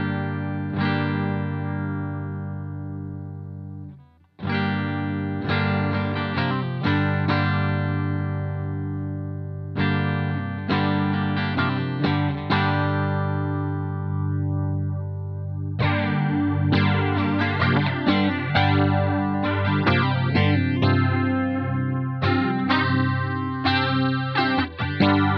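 Clean electric guitar played through a Stylus pedal with vibrato warble, chords and arpeggiated notes wavering in pitch, ringing steadily with a brief gap near the start, no talking.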